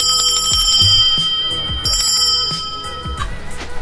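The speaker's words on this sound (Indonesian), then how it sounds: "Itu bel pintu Pak." A doorbell rings several times in a shop making traditional toys, bright metallic chimes that strike and decay in quick succession, loud and close with no talk over them.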